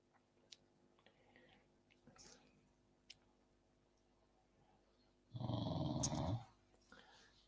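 Dog growling, a short low rumbling burst close by after quiet background rustles and soft whispery sounds.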